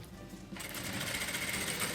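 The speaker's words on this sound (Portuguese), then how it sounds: "Retrocesso e continuo costurando." A sewing machine stitches fabric with a backstitch, starting up after a brief pause and then running in a steady, close, rapid mechanical whir without voices.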